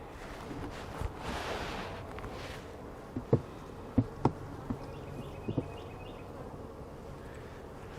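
Honeybees buzz around a hive being checked after a small swarm was combined with it, a soft and steady drone set against light wind, with a few sharp knocks and taps from handling the hive.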